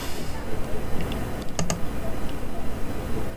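Fingers type on a computer keyboard in a quick short burst of clicking keystrokes, close and moderately loud over a steady room hum.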